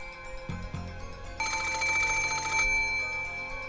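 Telephone ringing in the Umineko video game PS3 port, a bright electronic bell ring sustained for about a second over quiet background music, preceded by two soft low thuds.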